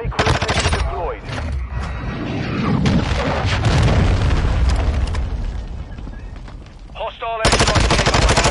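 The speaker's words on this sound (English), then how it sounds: "Hostile air strike came to location" Gunfire and air strike explosions in a ranked online shooter match: dense bursts of automatic fire and heavy booming blasts run almost without a break, loud and close, with a short lull just before the end.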